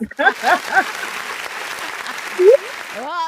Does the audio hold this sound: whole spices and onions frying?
no